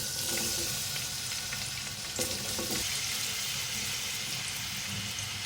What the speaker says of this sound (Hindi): थोड़ा सा ये गर्म हो जाए तो फिर मैं प्याज डालूँगी